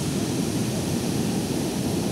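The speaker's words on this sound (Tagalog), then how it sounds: "Ito yung alon dito ngayon guys, oh" Large sea waves after a typhoon, a continuous broad roar of surf close by, loud and steady with no voices.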